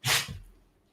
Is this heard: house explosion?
no